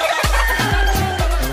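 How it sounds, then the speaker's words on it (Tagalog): Chickens cluck loudly and close in a backyard flock mixed with pigeons, ducks and a turkey, a quick run of four or five sharp, rhythmic calls with no talk. "May kalapati, may manok."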